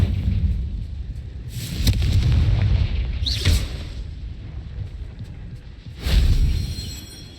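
Confringo fire spells cast in the Hogwarts Legacy video game, three booming blasts with crackling fiery bursts spaced a few seconds apart over a rumbling background.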